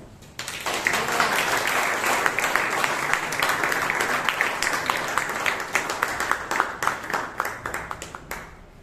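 Audience applause at a Toastmasters club meeting in Bangalore welcoming the meeting's MC, rising quickly into dense clapping that holds steady, then thins into scattered individual claps toward the end.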